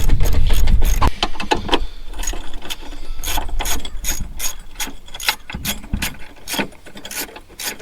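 A ratchet wrench loosens the battery terminal nut on a fifth-generation Toyota 4Runner, giving rapid, steady clicking pawl strokes in quick bursts, close up and fairly loud, with no speech.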